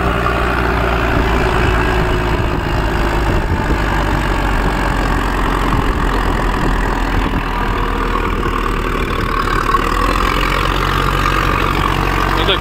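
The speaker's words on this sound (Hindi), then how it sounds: "ट्रैक्टर खुला भी नहीं है, वो पूरे जोर नहीं मार रहा।" An ACE DI 6565 tractor runs steadily while pulling an 11-tyne big tiller through soil, its diesel engine producing a loud, constant low drone that is not at full throttle. It sounds close and unbroken throughout, with no talking.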